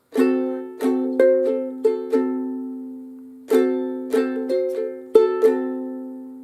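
A ukulele plays alone a bar of a song in chord melody style, mixing quick strummed chords with single picked notes in a short rhythmic phrase, pausing briefly before repeating it.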